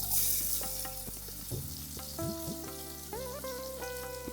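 Finely chopped onions frying in hot oil in a pan for egg kalia, a continuous close sizzle with steady crackle and some stirring clatter, no voices.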